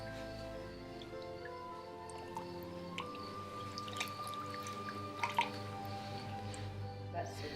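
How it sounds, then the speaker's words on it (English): Water from paper pulp draining through a sieve, heard as faint, scattered drips and trickles over a steady low hum. "it's running through there, and I'm catching all of the pulp in the sieve"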